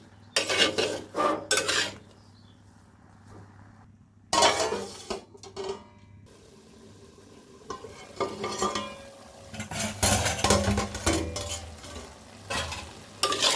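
Taro leaves (kochur shak) being stirred in a pot, with scraping and clattering bursts of utensil against metal alternating with quieter sizzling and simmering pauses.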